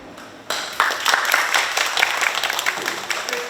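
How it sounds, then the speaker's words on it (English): A burst of applause from an audience at a university information session starts abruptly and keeps going steadily, many hands clapping at once with a dense, crackling texture. "let's have a warm applause"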